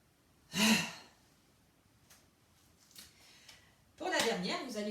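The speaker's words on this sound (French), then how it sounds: "nous faisons la grande respiration" A deep, audible breath is drawn and released during a guided stretching session, a breathy rush near the start, then quiet room tone, soft movement noises and a person speaking at the end.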